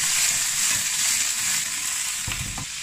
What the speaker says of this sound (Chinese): 翻炒